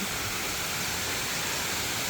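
Creek water rushes down a steep drop along the Ritchie Hollow trail, a steady, dense broadband roar like a small waterfall, loud and unchanging throughout.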